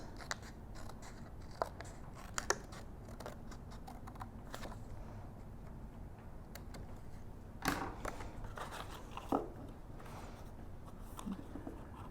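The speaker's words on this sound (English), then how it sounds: "So trim off some more until it fits" Scissors trimming chipboard for a purse, a sparse run of quiet, dry snips and clicks at uneven intervals, close up and faint, with no talk.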